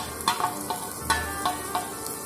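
Finely chopped onion and garlic sautéing in butter, giving a soft continuous sizzle broken by several sharp spoon taps and stirring clicks against the pan, close by and without speech.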